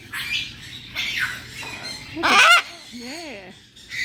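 A pet bird squawks inside a bird store, with several harsh, loud calls close by and one especially strong burst midway, followed by warbling notes over faint background murmur.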